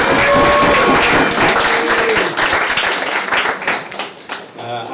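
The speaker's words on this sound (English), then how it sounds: "If we give a big round of applause for all the speakers again." A round of applause for speakers at the end of an Ignite talk event, loud clapping from a room of people with voices over it, thinning toward the end.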